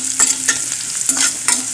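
Mustard seeds and fenugreek spluttering in hot oil for a papaya thoran, with sharp popping crackles in irregular bursts over a steady sizzle, close and fairly loud, no voices.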